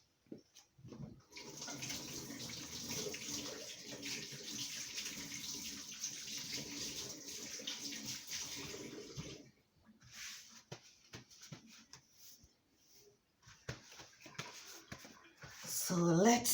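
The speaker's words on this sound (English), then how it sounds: "I am going to give my hands a good wash" Hands washed under a running tap, a steady hiss of water lasting several seconds, then broken splashes as the flow stops and restarts, with a voice speaking near the end.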